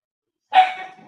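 A household pet dog gives a single sharp, fairly close bark that trails off quickly after a moment of silence.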